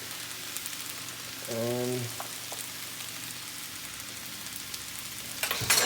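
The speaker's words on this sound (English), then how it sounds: "then we're gonna start cooking our shrimp a little bit using the essence of emerald" Shrimp sizzle faintly in a pan, a soft steady frying hiss under a brief tonal hum and a louder clatter near the end, with a voice briefly heard.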